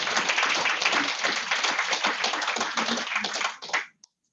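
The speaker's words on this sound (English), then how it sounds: "let's welcome Joanne once again with a huge round of applause for her" Audience applause for a guest at a December fireside chat event: a dense burst of hand clapping at steady volume that fades out abruptly near the end, followed by a single faint tap.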